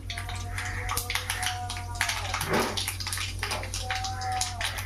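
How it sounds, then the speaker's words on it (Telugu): Mustard seeds and urad dal sizzle in hot oil for a bitter gourd pulusu, a continuous close hiss with scattered sharp pops and crackles throughout. "ఆయిల్ వేడైంది కొంచెం ఆవాలు కొంచెం మినపప్పు"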